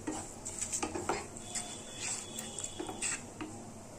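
Spoon scraping and clinking against a pan while stirring lauki halwa, a bottle gourd pudding with cardamom and khoya, in a series of quiet, irregular metallic taps and scrapes close by.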